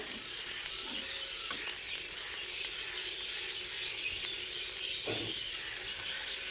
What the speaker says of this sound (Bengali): সেমভাবে বাকিগুলোকেও ভেজে নেব